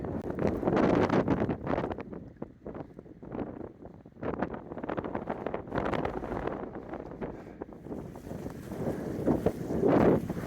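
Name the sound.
wind blowing across a mountain lake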